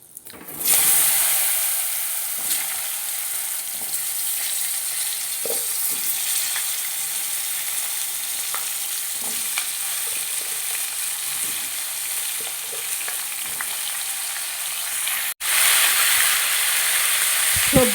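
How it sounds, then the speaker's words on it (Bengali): Vegetables for shukto sizzle steadily in hot oil seasoned with dried red chillies, five-spice and bay leaves, a dense close frying hiss broken by soft scrapes and knocks of stirring throughout, with a brief dip near the end. "সবজিগুলো নেড়ে চেড়ে এবার আমি সামান্য নুন আর সামান্য একটু হলুদ দিয়ে দেবো।"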